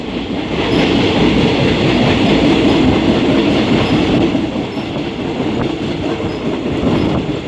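A train rolls steadily along the rails nearby, a loud continuous rumble with faint rhythmic clatter of wheels and no voices.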